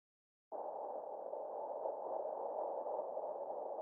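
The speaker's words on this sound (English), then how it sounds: "you can kind of hear that it sounds like an AC" A faint, steady air-conditioner hum fills a quiet room, starting abruptly and holding an even, muffled drone with no voices.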